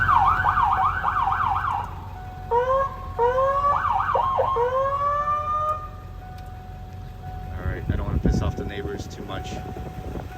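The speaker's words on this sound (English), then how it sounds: "So that siren's really loud." Siren of a 2002 Ford E350 ambulance with a 7.3L engine: a loud, close wail that switches into rapid yelp and then sweeping tones, followed by some low rumbling.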